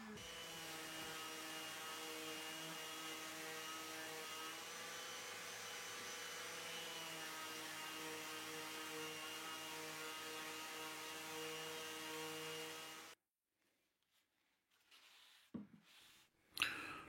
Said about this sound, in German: Jetzt noch ein wenig schleifen.